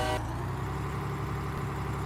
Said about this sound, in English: Oh, it's got train horns.